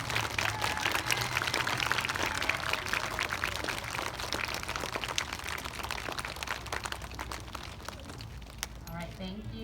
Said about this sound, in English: let's give all of our November students of the month a big round of applause